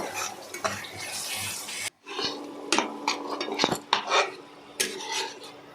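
Spice paste for Kashmiri aloo dum is stirred and fried in a pan, with a utensil scraping and clinking against the metal in uneven bursts. Each stroke is close and moderately loud, with a short pause early on.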